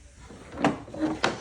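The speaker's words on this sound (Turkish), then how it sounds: "şıkır şıkır bütün çekmeceleri hala çalışıyor." Wooden drawers of an old cabinet slide open and shut, giving a few soft, close knocks and scrapes with a short pause between them, alone and fairly quiet.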